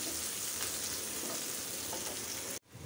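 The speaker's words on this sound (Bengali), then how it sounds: "এখন দিব এখানে রসুন, পেঁয়াজ আর আদা কুচি। এটা দিয়ে বাগার দিব।" Chopped garlic, onion and ginger sizzle loudly in hot oil as a tempering for black-cooked beef bhuna, a dense, steady frying hiss that cuts off abruptly near the end.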